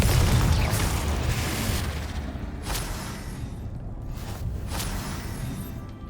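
Spell explosions booming one after another in Hogwarts Legacy, a loud dense barrage of blasts and rumbling impacts that fade slightly toward the end, with no voices.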